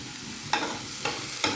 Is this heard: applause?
no